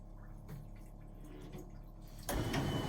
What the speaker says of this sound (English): There is more water coming to flush the toilet.